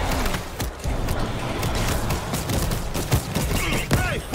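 Dense gunfire from a video game battle set in Moscow crackles without a break as a loud fusillade of rapid shots mixed with booms, with a few louder cracks near the end.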